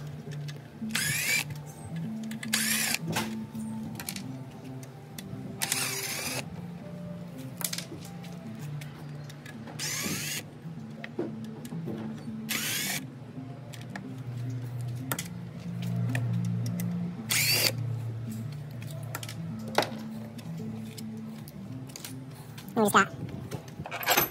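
An impact wrench works on a Yamaha F350 outboard on a 33 Hydra-Sport boat, firing in several short loud bursts spread through the stretch, with a low engine-like hum and some voices underneath.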